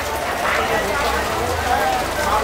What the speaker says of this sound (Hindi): साथ में बारिश तो है ही